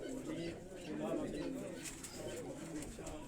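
Tunia breed pigeons from Sialkot coo in low, rolling, steady calls, close and continuous, with a voice talking over them.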